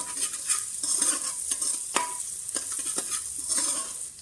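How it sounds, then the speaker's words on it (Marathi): Onion and turmeric sauté in a pan for mutton sukka, a steady close sizzle broken by a few sharp spatula scrapes and stirring knocks, with no voices. "यात आता आपण अर्धा चमच हळद घालून घेऊ हळद पण चांगली परतळून घेते"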